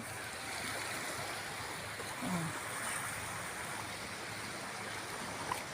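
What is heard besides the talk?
sea waves along a rocky shore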